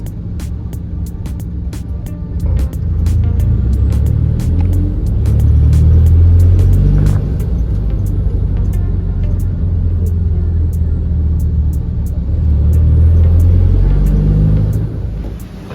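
A Ford Courier drives through slow Gold Coast traffic past roadworks, with a steady low engine and road rumble throughout that swells a little around the middle and again near the end.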